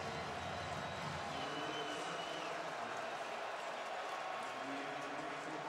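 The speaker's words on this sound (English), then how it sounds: "Place known for loud crowds." A football stadium crowd at Washington State, Stanford visiting in 2013, roars as a steady, distant wash of noise that holds level throughout with no clear talk on top.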